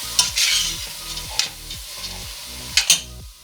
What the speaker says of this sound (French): Je mélange bien.